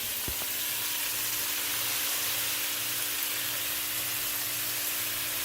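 Chopped cabbage sautés in oil for a keto cabbage soup, giving a steady, close, broadband sizzle that runs the whole time, with a single sharp clink near the start.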